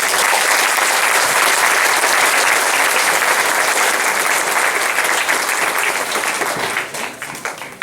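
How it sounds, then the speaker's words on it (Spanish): Loud, sustained applause from a congregation at a prayer group after a scripture reading, dense and continuous clapping that thins slightly in the last second. "Den un aplauso fuerte a la palabra."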